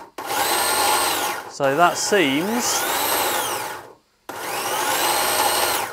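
An electric motor driven by a Hobby King motor driver and RC set for an exosuit's powered legs whines steadily, cutting out briefly, as someone speaks over it.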